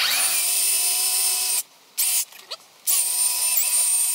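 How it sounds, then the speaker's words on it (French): A power drill bores holes into a wooden rafter of a chicken coop, its loud high whine running steadily, cutting out briefly twice in the middle, then resuming close by. "Je fais mes trous de perçage légèrement en diagonale"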